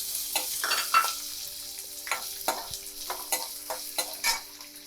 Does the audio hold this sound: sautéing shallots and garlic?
yes